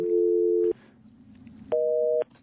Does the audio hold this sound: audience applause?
no